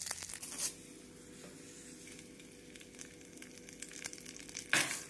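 Urad dal, onion, curry leaves and dried chillies fry in hot oil for a coconut chutney tempering, a faint steady sizzle and crackle with a couple of louder pops near the start and end.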